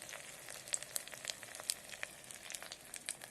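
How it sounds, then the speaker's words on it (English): Bitter gourd and onions frying in an electric kettle, a soft, steady sizzle with faint scattered crackles and pops, quiet and continuous with no talking. "once the onions are fried and ready, add the bitter gourd to it."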